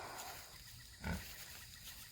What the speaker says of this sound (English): This is one of our pigs named Flash.